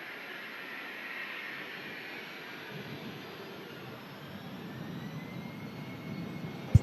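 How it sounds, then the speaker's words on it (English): NetJets Phenom 300 business jet at an airport, a steady faint engine whine and rumble heard from a distance, slowly building toward the end. "We also have a NetJets aircraft out to Barcelona as well."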